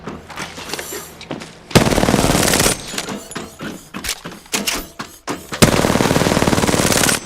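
Rapid automatic gunfire from a weapon in Apex Legends, with two loud sustained bursts of fire and scattered shorter shots and impacts around them, close and prominent.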